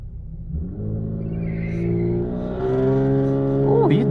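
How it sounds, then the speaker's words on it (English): A race car engine revving steadily during a drag-strip burnout, a loud low droning roar that rises in pitch, with a voice speaking briefly near the end. "Oh, he's doing a big burnout."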